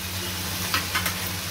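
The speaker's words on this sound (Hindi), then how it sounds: "और इसको मिक्स कर देते हैं और इसको सॉफ्ट होने देते हैं।" Tomatoes simmering in water in a pan give off a steady close sizzle while a spoon stirs through them, with a few brief scraping swishes over a low background hum.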